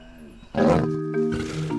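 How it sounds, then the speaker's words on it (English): Hippos grunting outside at night, heard from bed at a lodge in Uganda: a deep, close call begins after a short pause, with a second grunting burst following in low, resonant pulses. "There's nothing quite like laying in bed, hearing the hippos roaring outside."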